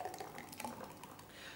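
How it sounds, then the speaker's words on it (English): A green vegetable and fruit smoothie, a V8 Super Green blend, pouring out into a glass, with faint liquid trickles and drips close by and no voices over it. "I'm gonna pour this one out now and give this a try."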